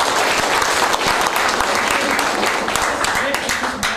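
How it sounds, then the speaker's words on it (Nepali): An audience at a leadership training event for a business company bursts into loud, sustained applause, dense clapping that holds steady throughout, with voices mixed in. "जोरदार ताली उहाँलाई"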